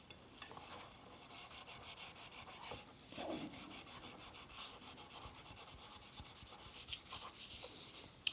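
Close, steady scrubbing of a burnt, charred stainless steel pot with alcohol and grease: a continuous rhythmic rasping rub running throughout, with no talk.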